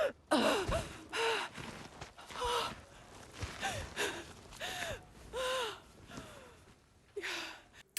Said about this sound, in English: Each time it sounds like she's gasping for air